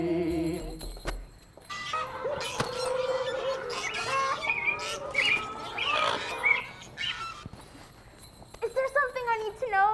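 Birds call and hens squawk in a busy, chaotic mix of chirps, clucks and shrill cries, with loud bursts that overlap one another and come close to the listener.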